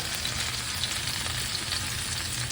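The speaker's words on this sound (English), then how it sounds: "take your bread, drop it in the oil, let that simmer for a few minutes" Bread frying in hot oil in a pan, a dense, steady sizzle held close and loud throughout, with no voices.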